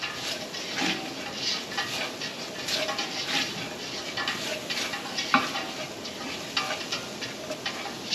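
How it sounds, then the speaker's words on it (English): Onions and garlic sizzle with spices in a large pot while being stirred, a steady crackling fry with scraping and clinking of the spoon against the pot throughout, close and fairly loud, with no talking. "So we have our onions and garlic turning around with those spices."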